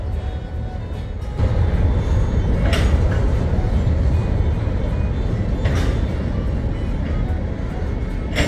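A heavy freight train hauled by GE B23-7 locomotives rumbles past close by in the Tennessee mountains, a steady low roar of wheels and cars rolling on, with occasional sharper clanks standing out.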